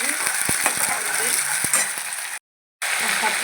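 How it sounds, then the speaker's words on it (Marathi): Ginger garlic paste sizzles steadily in a hot pan, a loud, dense hiss with occasional clinks of a spoon stirring, broken by a brief moment of silence. "आता आपण त्यात घालू आलं लसूण पेस्ट 2 चमचे"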